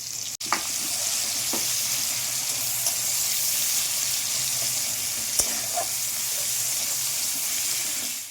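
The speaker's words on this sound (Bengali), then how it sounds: "পেঁয়াজটা গোল্ডেন ব্রাউন করে আমি ভেজে নিয়েছি" Sliced onions fry in hot oil in a wok, a steady loud sizzle and hiss running throughout with a few faint clinks of stirring.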